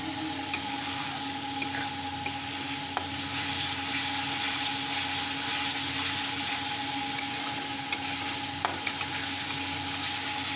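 Masala and fish sauté in hot oil for fish do pyaza, giving a steady, even sizzle with faint ticks and stirring clinks, alone with no voices.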